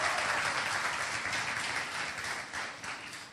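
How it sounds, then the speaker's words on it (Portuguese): A church congregation applauds steadily during a sermon, dense clapping from many hands that holds at an even level and tapers slightly toward the end. "Vamos aplaudir ao Senhor pela vida da Lailane"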